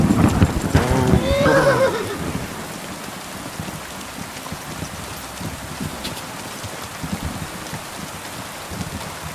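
A horse whinnies loudly near the start in the video game Kingdom Come: Deliverance II, then steady rain patters on a surface with faint hoofbeats for the rest.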